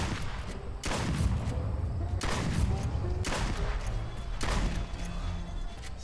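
A shotgun fires in a VR video game on the Oculus Rift: four loud, booming blasts spaced about a second and a half apart, each ringing out over a dense background din.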